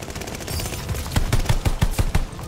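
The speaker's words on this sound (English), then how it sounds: "They're sending mortar shells." Explosions and gunfire in a Call of Duty Vanguard Domination match, with a run of sharp booming blasts in quick succession over a constant battle din, no talking.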